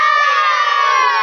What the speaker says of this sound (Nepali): सारा हुटिङ गर्नु पऱ्यो नि